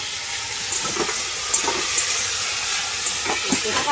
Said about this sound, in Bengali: মার এখন আলু ভাজা হচ্ছে, তুমি করো,